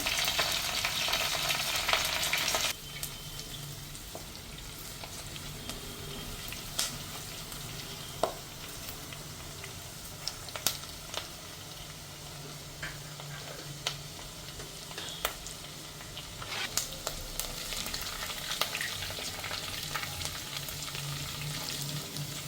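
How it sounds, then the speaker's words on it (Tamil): Oil sizzles steadily as onions and curry leaves fry for the tempering of a duck egg curry, with sharp pops and crackles scattered throughout, close by and moderately quiet, no talking. "நல்லா ப்ரௌன் ஆகிற மட்டும் பொரியட்டும்"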